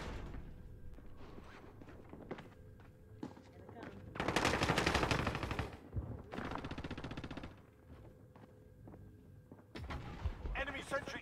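Bursts of automatic gunfire from a sentry gun in a video game, several loud rattling volleys separated by quieter stretches with sparse shots and game sounds.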